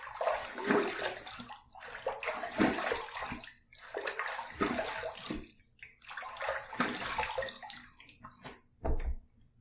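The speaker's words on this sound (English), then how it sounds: "Second pass done, let's rinse." Running water rinses a freshly shaved face and razor, coming in repeated bursts of splashing and gushing with short pauses between them, close and fairly loud, and no one speaks.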